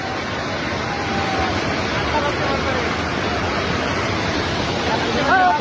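Continuous roar of water pouring and flowing heavily over a bridge, close by, with faint bird chirps near the end.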